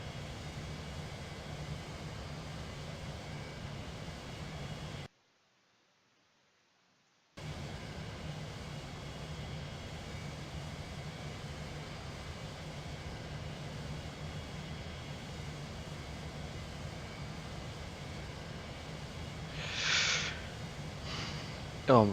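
Steady broad roar of a fighter jet engine in a flight simulator game, constant and loud with a brief total dropout partway through and a faint higher whine near the end.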